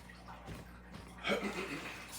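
Hot water poured out of a cup beside an alcohol penny stove, a short quiet splash and trickle lasting about a second under a faint background hum.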